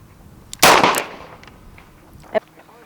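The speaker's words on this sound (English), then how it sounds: "shoot 5 rounds with it in double action, okay, and then 5 rounds in single action" A single sharp revolver shot from a Smith and Wesson 638 at a shooting range rings out loud and close, decaying over about half a second, followed by a fainter metallic click.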